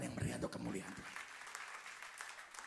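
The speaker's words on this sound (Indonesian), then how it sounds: "Tepuk tangan yang meriah untuk kemuliaan Tuhan." A church congregation breaks into applause during a sermon, a dense wash of clapping that follows a brief spoken voice at the start and carries on steadily to the end.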